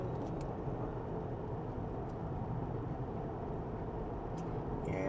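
Steady broadband rumble of distant road traffic outdoors under a cloudy sky, a continuous low wash with no distinct passes, faint and unbroken throughout with no talking.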